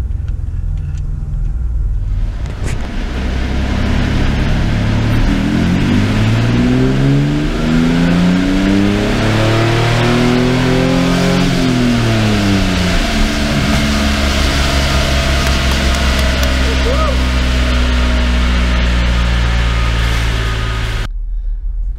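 A Chevrolet Blazer DLX V6 revs hard as it pulls off a dynamometer, engine pitch sweeping up and back down through several gears, loud and close, before cutting off abruptly at the end.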